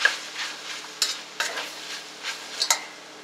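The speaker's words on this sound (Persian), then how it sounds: "مخلوط می کنیم روغن همراه مکرونی." Cooked macaroni being stirred with about a spoonful of olive oil for an Afghan-style dish: close, soft scraping and sloshing strokes in an uneven rhythm, a handful of sharper spoon scrapes standing out.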